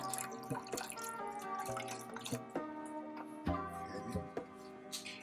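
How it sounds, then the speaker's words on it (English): Chicken broth is poured into a pot while making oven-style jerk chicken, a close, steady trickling and splashing of liquid with small dripping accents. "Pour some chicken broth in there."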